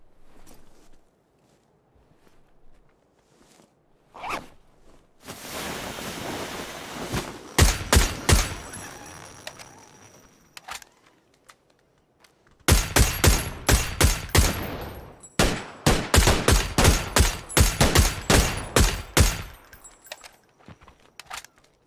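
Bursts of video-game gunfire from a PUBG duo match: a long noisy stretch, then sharp single shots and rapid runs of cracks, loud and close, with quiet gaps between volleys and little talk.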